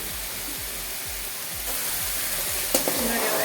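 Ingredients for egg fried rice sizzle in hot oil in a pan, a steady hiss broken by stirring scrapes and a sharp clink near the end.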